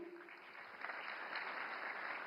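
Audience at a Marathi literary conference in New Delhi applauding a singer, a steady, moderately distant wash of clapping that swells slightly toward the end, with no talking over it.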